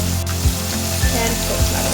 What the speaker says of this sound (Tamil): காயெல்லாம் வேக வைக்க வேணாங்க, எண்ணெயிலே ஃப்ரை பண்ணி எடுத்துடலாங்க.